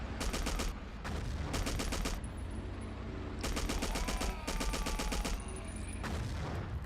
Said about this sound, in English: What the hell is shooting?